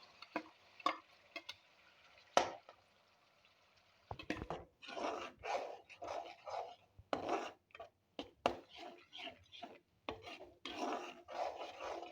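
Spinach (palak) dropped into hot oil in a pan sizzles and rasps close by, starting with a few sharp isolated crackles, then settling into frequent bursts of frying hiss.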